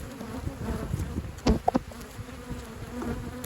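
Honeybees hum steadily around a busy beehive, a dense close swarm drone with a couple of louder buzzing passes as individual bees fly right by.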